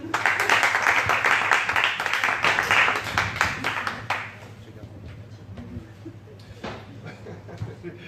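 Audience applause at a wine and poetry contest, a dense burst of clapping for about four seconds that then thins out into scattered claps and murmuring voices.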